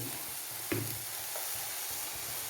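Vegetables for a curry served with tapioca sauté in a pan, giving a faint, steady sizzle with a soft stir or clink near the start and no voices.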